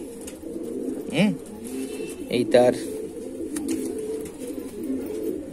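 Small male and female pigeons coo in low rolling bursts, with a few sharper calls rising out of a dense background of loft birds while someone speaks briefly.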